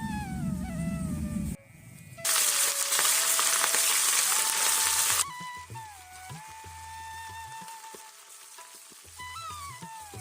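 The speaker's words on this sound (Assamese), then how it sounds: "এতিয়া মই মাছখিনি প্ৰথম ভাজি ল'ম।" Fish, seasoned with salt and turmeric for a thekera tenga curry, hits hot oil in a pan with a loud, hissing sizzle that lasts about three seconds, then fades under steady tonal background music.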